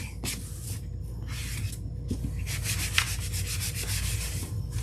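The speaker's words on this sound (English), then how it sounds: "This is just a small little sanding block." A small hand sanding block rubs back and forth across a scrap 4x4 wood block to remove printed words. The strokes are close and rhythmic, with a rasping texture and brief pauses between passes.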